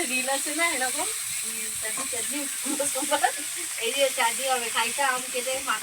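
Food fries on a clay stove with a constant high, hissing sizzle that runs beneath a voice speaking close by throughout.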